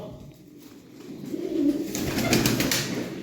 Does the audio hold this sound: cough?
no